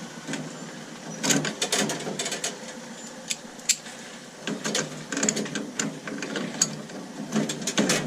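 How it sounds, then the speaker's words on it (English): A ratchet working a nut loose on an old combi boiler, bursts of quick clicking pawl ratcheting close up, separated by short pauses and small metallic knocks. "there's another nut there, so we can undo that one"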